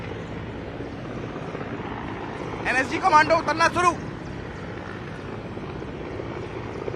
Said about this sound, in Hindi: एक और हेलीकॉप्टर ठीक इसके पीछे देखिए आप, एक और हेलीकॉप्टर उसके पीछे है।